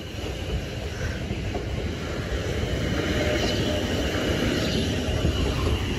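A BR Class 455 electric train rolling past at Clapham Junction, a steady loud rumble of wheels on rails with faint squeal, no voices.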